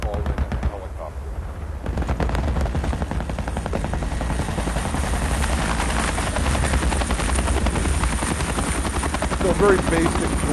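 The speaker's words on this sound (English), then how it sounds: "you could call in a helicopter." Simulated helicopter in a virtual reality scenario, a steady loud rotor thumping and engine roar that builds after a brief opening and continues throughout, with rumbling gunfire mixed in.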